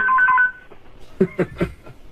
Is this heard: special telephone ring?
yes